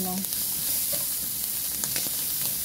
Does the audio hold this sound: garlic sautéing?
yes